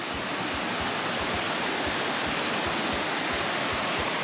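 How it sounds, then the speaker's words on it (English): Raging river rapids in a fern-lined forest gorge on the Black Forest Trail, a dense, loud, continuous roar of churning whitewater close by, with faint low thumps of wind against the microphone. "Let's get you guys a nice shot of this raging rapids."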